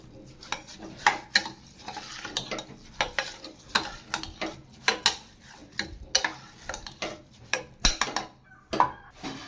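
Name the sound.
stirring rice with salt in a pot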